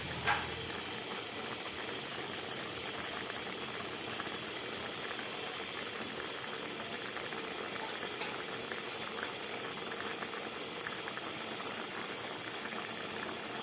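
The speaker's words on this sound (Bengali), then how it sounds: "শুক্তোটা ফুটে উঠেছে" Pot of Bengali shukto vegetable curry at a rolling boil, a steady close bubbling and hissing simmer that runs on evenly without pause and with no talking.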